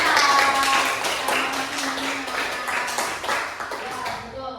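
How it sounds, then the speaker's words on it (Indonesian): Classroom of students clapping for two classmates, a dense patter of hand claps with some voices mixed in, fading out toward the end. "tepuk tangan untuk Bilkis dan Zeta."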